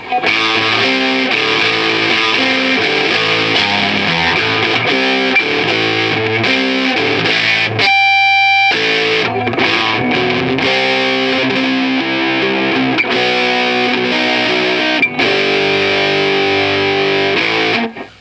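A heavily distorted Gibson Les Paul Studio 50's Tribute electric guitar through a Marshall amp plays a riff of chords and notes. It is loud and sustained, with a brief pause partway through before continuing.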